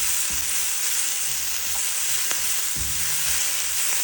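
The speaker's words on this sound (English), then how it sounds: "Broccoli is stir frying nicely." Steady, loud sizzling of broccoli stir frying in a hot pan, with a couple of faint utensil taps against the pan.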